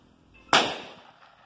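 A single sharp, loud 16-gauge shotgun blast cracks out nearby during chronograph testing, then fades into a short decaying echo.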